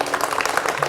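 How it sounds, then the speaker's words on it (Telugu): A crowd gathered before a village festival orchestra stage claps in a brief, dense burst of applause, steady and fairly close. "అందరూ చప్పట్లు కొట్టండి."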